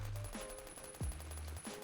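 An MG3 machine gun loaded with silent ammo fires in the Phantom Forces video game, producing soft muffled shots that sit low and faint beneath other game sounds rather than loud bangs.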